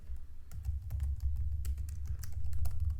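Someone types rapidly and continuously on a computer keyboard, with close, crisp clicks of dense keystrokes and no speech.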